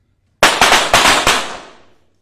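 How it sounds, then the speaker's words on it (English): Four sharp pistol shots fired in quick succession at a 25 m shooting World Cup final, loud and close, each crack ringing out and the reverberation tailing off after the last. "At each shot, they have to get back to position."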